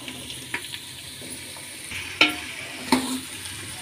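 Snake gourd pieces and chana dal frying in oil, stirred with a spoon: a steady low sizzle with several sharp scraping clicks against the pan, no talk.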